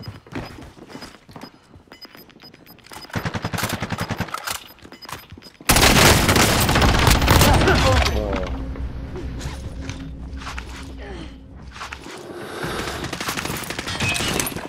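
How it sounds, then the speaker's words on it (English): Video game gunfire, with scattered shots early on giving way to a loud, dense burst of rapid fire, then mechanical clanks and a lingering rumble. The sound is close and harsh. "Taking direct fire!"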